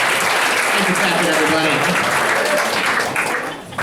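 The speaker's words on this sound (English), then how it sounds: "Like to keep that applause rolling if we can" A comedy club audience applauds a stand-up comedian, with steady, dense clapping that holds at full strength for several seconds and then begins to thin out near the end.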